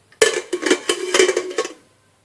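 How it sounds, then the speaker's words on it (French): Metal lid of a pressure cooker being set and locked in place, giving a quick run of close clanks and rattles over about one and a half seconds, then quiet. "je ferme la cocotte et je laisse cuire"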